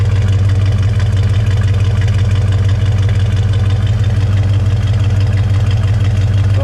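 A Ford 460 V8 in a 1973/1979 Mercury Montego MX Ranchero with dual exhaust idles loud and close, a deep, steady, throbbing rumble with an even pulse throughout and no talking.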